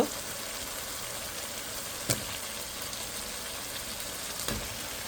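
Pumpkin going into oily masala for a hilsa curry gives a steady, faint sizzle across the whole stretch, broken by two soft knocks or stirs near the start and end, with no talk.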